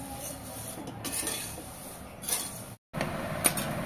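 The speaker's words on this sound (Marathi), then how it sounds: "तर इथे मी 2 टोप पोहे घेते आणि गॅसची फ्लेम मध्यम ठेवून 10 ते 15 मिनिटं भाजून घेणार आहे।" Flattened rice (poha) dry-roasted in a pan over a medium gas flame, light rustling and clinking of a utensil moving the flakes against the metal, brief louder scrapes and one short pause.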